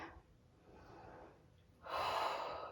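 A sharp, breathy inhale during a yoga flow, with quieter breathing before it and the louder breath rising near the end.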